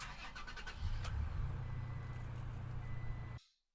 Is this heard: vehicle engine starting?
yes